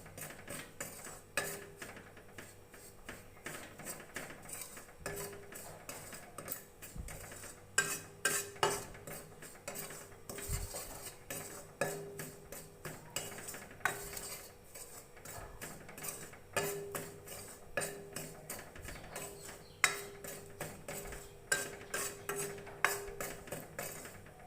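Sooji and besan being mixed with ghee in a pan for ladoos: a steady run of soft scraping and clinking from a spoon against the vessel, repeated in quick uneven strokes at close range, with no talk.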